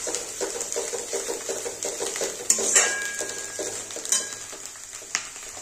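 Spices with turmeric powder being stirred and sautéed in a pan for palak paneer, a steady soft sizzle with repeated scraping and clinks of a metal spoon against the pan, close and alone.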